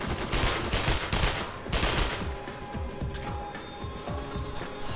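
Assault rifle gunfire in the video game Sniper Ghost Warrior, with dense overlapping volleys of rapid shots that stay loud throughout, no speech.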